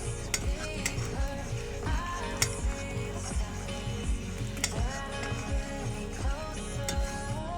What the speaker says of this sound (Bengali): হলুদ গুঁড়োটা দিয়ে ভালো করে নাড়িয়ে নেব।